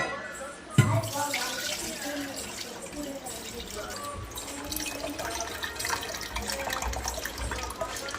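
Lentils for dal vada are swished and rinsed in water in a bowl, with a sharp knock at the start followed by continuous sloshing and trickling.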